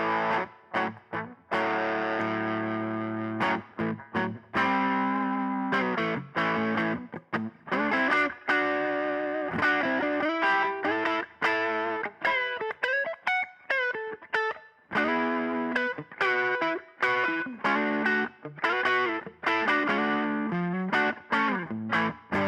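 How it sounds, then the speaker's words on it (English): Heavily distorted electric guitar, a Heritage H-535 through a heavier distortion pedal, playing loud chords and riffs throughout, with a gritty, saturated crunch and a brief sliding bend in the middle. "I've got a heavier distortion on here too"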